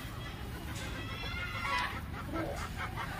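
Farm chickens clucking as they feed in their pen alongside goats, a continuous busy chatter of several birds, moderately close.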